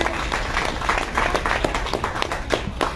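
Audience applause at a human rights forum, a steady patter of many hands clapping at moderate distance, continuous for a few seconds with light crowd murmur beneath.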